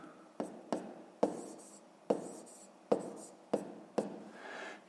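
A pen taps and scratches on paper while numbers are written for a fifth-grade decimal subtraction problem, about seven short strokes at irregular intervals, soft and close with no voice.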